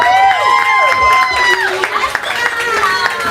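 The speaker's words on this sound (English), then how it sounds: "Y'all clap it up for that." A live poetry audience applauds a poet with scattered claps and cheers, while a host talks loudly over the applause.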